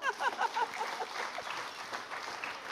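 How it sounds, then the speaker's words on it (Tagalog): A church congregation claps during a sermon, a brief burst of fairly loud, dense applause that quickly fades to softer scattered clapping. "Eh di pumalakpak kayo."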